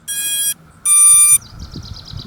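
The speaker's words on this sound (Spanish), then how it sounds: "escuchamos unos pitidos" Two loud, high electronic startup tones from a Hubsan Zino Mini Pro drone sound one after another, the second longer, followed by a softer warbling trill of quick chirps.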